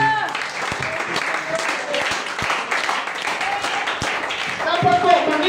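Church congregation clapping in praise during Sunday worship, a dense, steady patter of many hands mixed with voices and music, swelling slightly toward the end.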